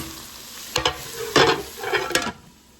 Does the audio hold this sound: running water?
no